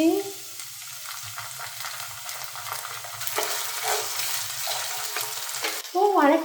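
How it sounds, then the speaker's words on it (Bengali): Onion fries in a pan with tomato ketchup, a close crackling sizzle with stirring scrapes throughout, and a short burst of speech at the start and end. "হালকা করে ভেজে নিয়েছি কেচাপ দিয়ে দিচ্ছি"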